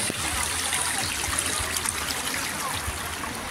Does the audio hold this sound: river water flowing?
yes